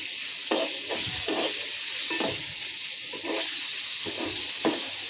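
Meat frying in a pan in a home kitchen, with a steady sizzle and hiss and irregular stirring scrapes that come and go, moderately quiet and close, with no talking.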